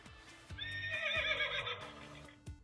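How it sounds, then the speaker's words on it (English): Electronic horse whinny from a Paw Patrol interactive farm book, one loud quivering neigh lasting about a second, preceded and followed by soft button clicks. "Horse."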